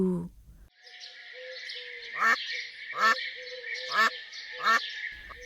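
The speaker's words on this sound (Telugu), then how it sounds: "quack quack quack quack quack quack అంటూ గబగబా వెళ్తూ ఉంది బాతు" A duck quacks four times in an evenly spaced series over a steady background tone, each call clear and fairly loud, with a short burst of another sound at the start and end.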